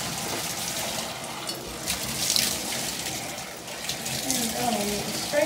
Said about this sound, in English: now we're going to start rinsing the water to a good temperature again.